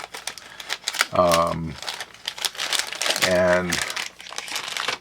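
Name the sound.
cutting open a vintage Bic pen package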